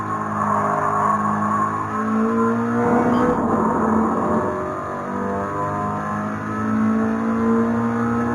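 A Toyota GR86 engine in GT Sport drones steadily, then blips and revs up and down through heel-toe downshifts, rising and falling in pitch, with no talking.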